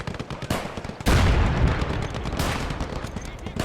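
Machine gun fire from a Marder tank destroyer in the World War II game Gates of Hell on the Eastern Front crackles in rapid bursts, with a heavy boom partway through and dense battle noise continuing after.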